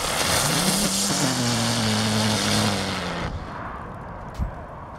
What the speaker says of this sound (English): first being your classic ground bloom flower.